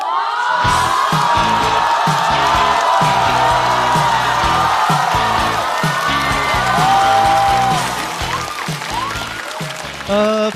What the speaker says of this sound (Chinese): 掌声欢迎高寒